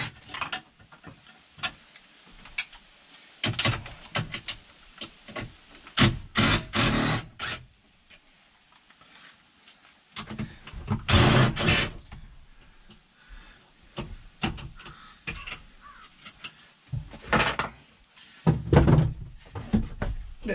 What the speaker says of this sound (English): So we're going to take the seat out.